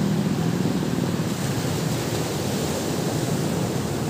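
Surf washes ashore at Pantai Damas beach as a loud, steady, broadband roar of breaking waves, mixed with some wind rumble on the microphone and no voices.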